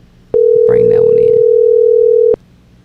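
A steady telephone dial tone sounds for about two seconds while a call is placed to Miami, Florida, loud and constant, with a voice talking faintly beneath it partway through.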